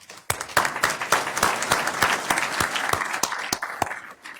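Applause at a Passaic County Board of County Commissioners reorganization meeting: sharp, distinct claps in a steady rhythm from a small group close by, continuing evenly for several seconds with no talk.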